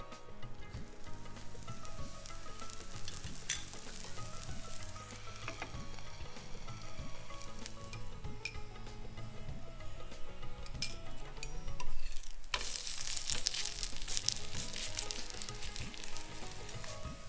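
Thalipeeth, a leftover-based vegetarian flatbread, fries in oil in a covered pan, giving a steady close sizzle and crackle throughout with occasional faint clinks and a brief louder hiss surge near the end; no voices.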